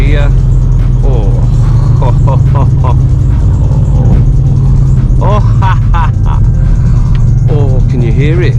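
Exhaust of a VW Mk7.5 Golf R, a steady low rumble and engine drone as the car slows near a turn on a road drive, loud and continuous, with people talking over it throughout.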